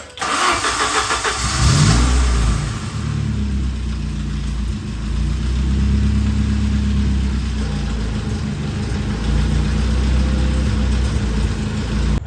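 A Saab 900 with a freshly rebuilt ignition system and regapped spark plugs cranks briefly, then catches and settles into a loud, steady idle heard up close, with no talking.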